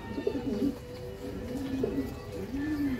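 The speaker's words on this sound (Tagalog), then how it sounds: "Ayan yung mga alaga naming kalapati sa house." Pet pigeons coo on the roof deck of an unfinished house, with several soft, throaty rolling coos close by against faint background noise.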